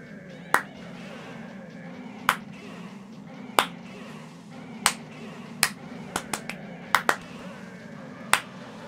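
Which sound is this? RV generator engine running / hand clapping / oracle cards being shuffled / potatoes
hand clapping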